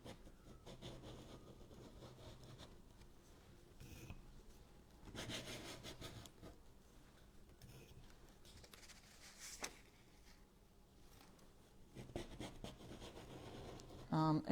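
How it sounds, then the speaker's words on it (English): Card stock scraping excess embossing paste off a stencil: soft, rasping strokes that come in several separate passes, close and fairly quiet, with talking in places. "So what we do then is just scrape that extra off"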